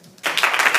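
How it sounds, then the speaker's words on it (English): A short burst of audience applause at a World AIDS Day talk starts abruptly and sounds close and fairly loud, lasting under a second. "applaud yourselves real quick"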